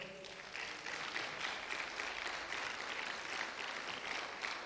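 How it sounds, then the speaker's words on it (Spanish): Faint, distant applause from a church congregation rises and holds steadily for a few seconds, a soft continuous patter of many hands. "Puede darle un aplauso al Señor por eso"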